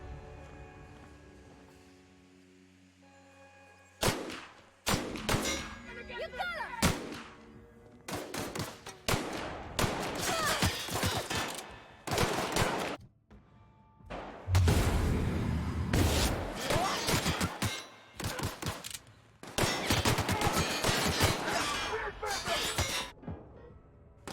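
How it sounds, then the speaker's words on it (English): Gunfire in The Outer Worlds video game comes in sharp, loud bursts and single shots, scattered irregularly across the stretch and mixed with other impacts and whooshing effects. "I shoot you."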